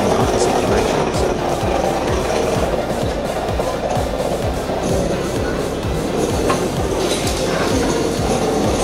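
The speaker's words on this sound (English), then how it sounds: "Funiculars are vehicles used to transport passengers up or down mountains and high altitude slopes." A funicular railway car climbing a steep mountain slope rolls past with a steady, rhythmic clatter of wheels over rail joints, loud and continuous under a constant rumble.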